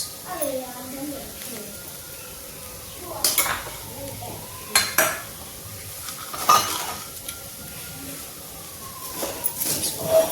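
Spiced potato filling with green chili, ginger and onion is fried and stirred in a pan for stuffed parwal, with repeated scraping clinks of a spatula over a steady sizzle, close up, as a voice talks at times.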